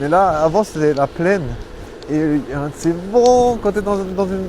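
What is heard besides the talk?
No distinct noise like a dog, phone or traffic.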